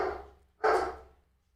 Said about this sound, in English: Sorry, guys, that's my dogs.